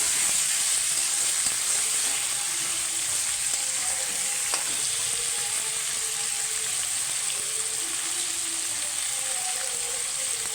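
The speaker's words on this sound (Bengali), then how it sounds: "দিয়ে আমি একটু মাংসগুলোকে নেড়ে ছেড়ে ভেজে নেবো।" Chicken pieces fry over onions in a pot while being stirred, producing a constant close sizzle with occasional soft scraping of the spoon.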